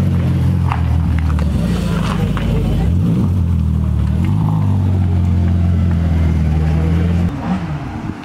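A car pulling away at a car meet, its engine droning loud and low while rising and falling as it moves off, with voices and crowd noise mixed underneath.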